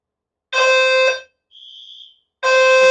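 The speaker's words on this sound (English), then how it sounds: "It's a fire alarm right" A fire alarm sounds in loud, sustained electronic bursts: a long harmonic-rich tone, a short gap, a thinner quieter tone, then another loud burst, with no voices.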